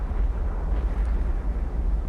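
In the naval warfare game Cold Waters, a missile strikes its target, giving a sustained deep rumbling boom that rolls on steadily without any talk.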